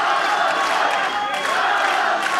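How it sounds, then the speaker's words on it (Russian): Odessa supporters chant a fighter's name at a combat sports event, a dense, steady roar of crowd voices that holds loud and continuous throughout. "Кричат они «Калантай»."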